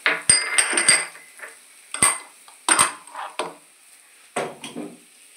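Onion, chili and curry leaves scraped and stirred in a metal pan with a utensil, giving a series of close, uneven clinks and scrapes in short bursts with brief pauses, no talk.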